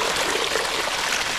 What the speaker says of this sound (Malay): Ni nampak air terjun ni.